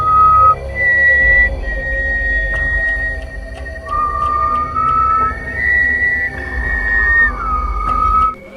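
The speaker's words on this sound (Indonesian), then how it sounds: "lalu disaut dengan siulan dari warga yang lain" People whistling back and forth to each other at night, clear sustained tonal whistles answering one another over a low rumbling background.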